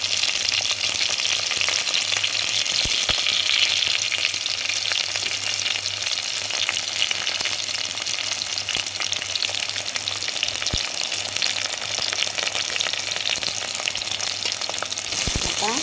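Onions and chillies sizzling and frying in a pan for village chicken rasam, a steady continuous hiss with occasional stirring scrapes, close and alone without talk.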